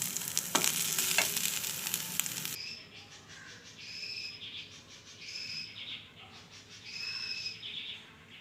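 Dried kizhangan fish sizzles loudly and steadily in a frying pan for the first few seconds, then cuts off, leaving faint crickets and bird calls in the background.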